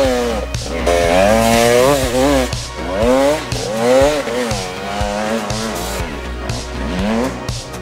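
Avantis enduro motorcycle climbing a hill off-road, its engine revving hard in repeated rising and falling bursts, loud and close, with short gaps between throttle pulls.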